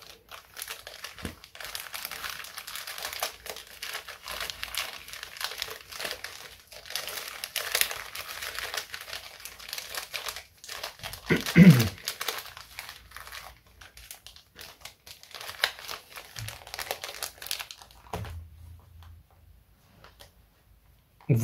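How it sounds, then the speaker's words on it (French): Close, continuous crinkling and rustling of trading card booster packs being shuffled together, with small taps and scrapes, going quiet near the end. "Mélangeons un peu ces boosters."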